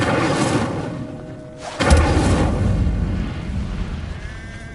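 A fire spell cast in Hogwarts Legacy bursts out as a sudden deep whooshing boom midway, then settles into a sustained roaring rumble over steady game ambience, loud and close.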